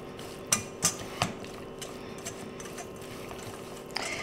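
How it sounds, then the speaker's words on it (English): Ground beef is mixed in a pan with Mexican cheese, three clear knocks of a utensil against the pan early on followed by quieter scraping and a faint clink at the end. "dump in my ground beef. And then we're going to mix this all together"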